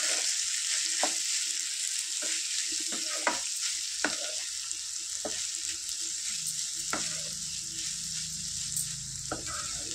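Food frying steadily in a pan with two tomatoes and coriander, a constant bright sizzle broken by repeated scraping stir strokes throughout, close and fairly loud with no talking.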